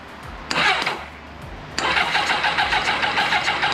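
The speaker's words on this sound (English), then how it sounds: "The motor turns over" The starter of a 1989 Kawasaki GPX750R motorcycle cranks the engine over in two close, loud bursts, a short one and then a longer sustained churning run, with no voices.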